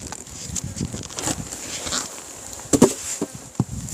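Honeybees buzz inside an opened wooden beehive housing a mold-affected colony, a steady low hum broken by a few close knocks and taps as something is set down among the frames.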